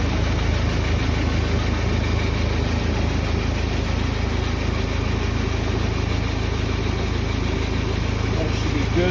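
A Steamaction Stealth truckmount carpet cleaner runs during descaling, its engine holding a steady, continuous drone with a low rumble and vibration throughout, loud and close with no break.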